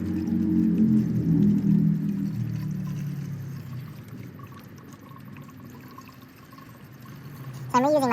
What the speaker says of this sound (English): you are gonna be pouring it right into the reservoir